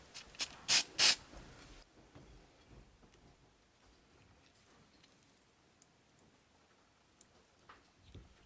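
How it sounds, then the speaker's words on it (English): Cyanoacrylate glue accelerator sprays in two or three short, close hissing bursts onto the chassis of a Hot Wheels die-cast toy car being motorized with a pull-back motor, followed by faint ticks and handling noises. "I'll go ahead and spray the Accelerator on the actual chassis"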